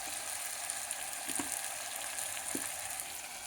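Ginger garlic paste frying in hot oil for a basmati rice khichdi breakfast, a steady close hiss of sizzling with a couple of faint clinks from a utensil; no talking.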